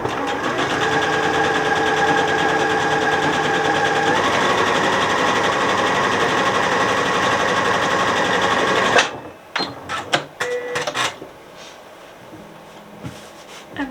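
A sewing machine stitches cushion cover pieces together in a fast, loud continuous run for about nine seconds, then stops, followed by scattered handling clicks and rustles.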